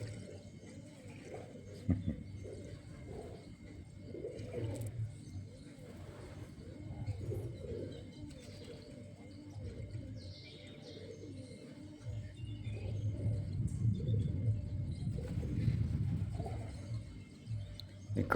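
Pigeons bathe in water and coo softly, with scattered chirps and light splashing over a low background. Faint voices murmur at times.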